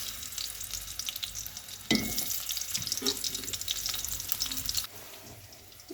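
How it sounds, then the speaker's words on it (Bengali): Onion dropped into hot oil in a wok, with a loud burst of sizzling that continues as steady frying and stirring, then briefly drops away near the end. "প্রথমত আমি কড়াই বসাই দিয়েছি, এরপরে তেল দিয়েছি, এখন পেঁয়াজ দিয়ে দেব।"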